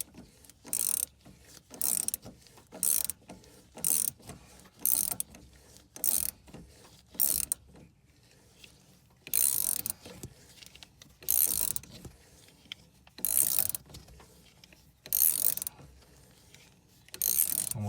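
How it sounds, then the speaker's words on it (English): Ratcheting a nut off a rear shock absorber from a 1995 Mustang GT, heard as repeated short clicking ratchet bursts in a steady start-stop rhythm, close and fairly clear with no talk. "Almost the last couple threads before the nut comes off."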